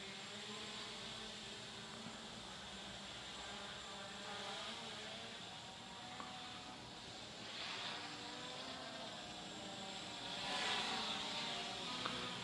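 A small budget quadcopter drone with no prop guards, camera or landing gear hovers and flies, giving a steady, continuous buzzing whine of its propellers that holds for the whole stretch and swells briefly near the end.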